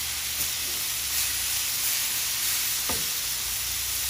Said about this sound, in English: Oh, that is a perfect sear